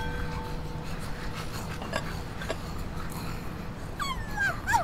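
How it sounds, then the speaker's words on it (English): Puppet dogs in the horror game My Friendly Neighborhood whimpering and whining, with a few thin rising and falling cries near the end over a murky game ambience. "Poor little puppet dogs."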